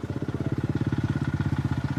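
A Honda CRF enduro motorcycle engine idles close by at Uzdowo, with a steady, fast chugging pulse that holds even throughout.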